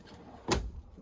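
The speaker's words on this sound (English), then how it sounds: "full extension drawer" A full-extension drawer in the bunk room of a 2023 Entegra Coach Vision 29F motorhome gives one short, close slide-and-bump, a single quick burst in an otherwise quiet room.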